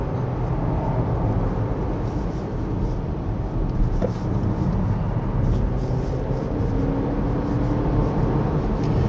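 A 2024 Mini JCW Countryman ALL4 on a winding mountain road gives a steady, dense drone of engine and road noise as it accelerates, heard from inside the cabin.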